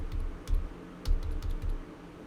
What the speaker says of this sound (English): I'm just going through my history with my keyboard